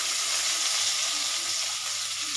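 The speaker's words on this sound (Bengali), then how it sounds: "এই পেঁয়াজগুলো আমি ভেজে নেবো" Sliced onions deep-frying in a pan for birista, a continuous hissing sizzle with a faint bubbling texture, close and steady without pauses.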